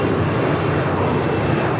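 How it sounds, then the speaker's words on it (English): An Airbus A380 arrives at Los Angeles International Airport, a loud, steady broadband jet engine roar filling the whole moment with no voices. "First of two A380 arrivals on the north side is, if you can see it"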